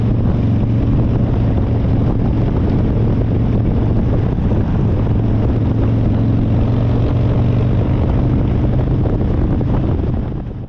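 Strong wind roars and buffets the microphone while cycling through Waipoua Kauri Forest in Northland, New Zealand, a loud, continuous low rumble with no talking.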